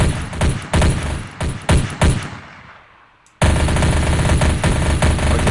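A rapid-fire weapon from an Alien vs. Predator mod in a video game lets off short machine-gun bursts, then pauses briefly before a sustained, loud stream of fire.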